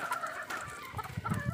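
Hens clucking nearby in short, uneven bursts, with a few louder clucks toward the end.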